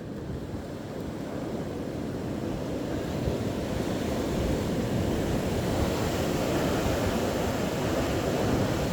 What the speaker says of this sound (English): I moved inside to film the wind as it continues to rocket through